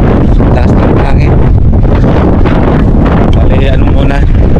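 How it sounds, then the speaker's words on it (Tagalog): Strong wind buffets the microphone beside the Inland Sea, a loud continuous roar and rustle on cold water during a fishing trip, with someone talking over it. "Taas ng hangin."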